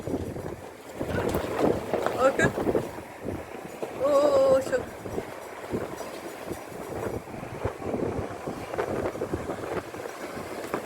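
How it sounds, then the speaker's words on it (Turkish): Strong wind gusting outdoors in Didim, Turkey, a steady rushing roar buffeting the microphone throughout, with a brief squeak and faint voices underneath. "Bayağı bir rüzgar sesi var."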